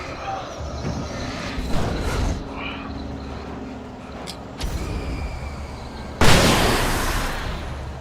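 A flashbang grenade going off in Alan Wake, a sudden loud hissing burst near the end after a stretch of scattered in-game clanks, rumbles and crackles.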